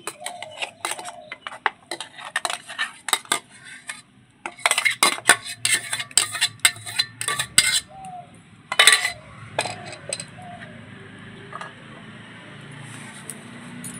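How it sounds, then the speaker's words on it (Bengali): A spoon clinks and scrapes against a bowl as mango paste goes into a sweet mixture for mango sandesh, with irregular close taps and knocks that thin out into quiet stirring. "পেস্ট করা আমটা দিয়ে দিচ্ছি।"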